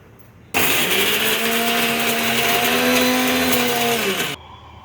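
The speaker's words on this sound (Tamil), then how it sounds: "மிக்சியில் அரைச்சிட்டேன். வாழைப்பழம், தேங்காய், ஏலக்காய் போட்டு நல்லா அரைச்சிருக்கேன்." Kitchen mixer grinder blending banana, coconut and cardamom for sweet wheat appam batter, starting abruptly and running as a loud, steady whirring drone for about four seconds before cutting off.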